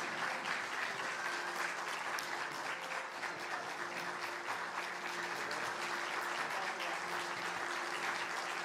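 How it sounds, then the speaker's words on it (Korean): A church congregation applauds its pastors during a Sunday service, with dense, even clapping sustained throughout, somewhat distant in the room. "다시 한번 큰 박수 부탁드리겠습니다."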